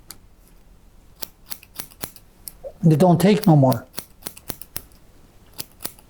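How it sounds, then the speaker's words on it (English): Barber shears snip hair in a barbershop with a quick run of sharp, close clicks spread across the moment, broken by a brief burst of speech in the middle. "So when this particular shear here is done cutting"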